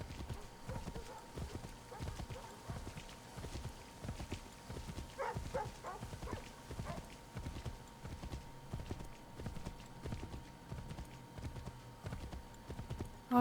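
Steady rhythmic clip-clop of horse hooves as a rider travels in Assassin's Creed III, continuous and fairly close, with a brief whinny-like call midway and faint background sounds.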